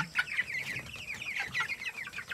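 Chickens on a 45-day broiler farm cluck in quick, overlapping bursts nearby, a steady chorus of short calls with no speech.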